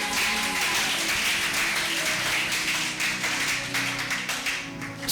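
Congregation at a French-language church worship service applauding, a dense sustained wash of clapping with cheering underneath, loud and steady throughout.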